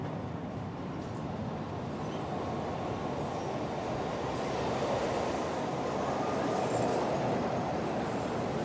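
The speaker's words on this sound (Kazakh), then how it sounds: "Бұл сары метро." A subway metro train runs with a steady, loud rumbling roar throughout, swelling slightly midway, with no talking.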